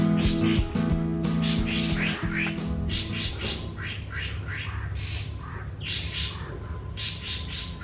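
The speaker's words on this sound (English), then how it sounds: "That's the sound of a greater racket-tailed drongo" Greater racket-tailed drongo calling in hot, mosquito-filled forest, giving repeated squawking, chirping notes in bursts over a steady humming background, fairly close and clear.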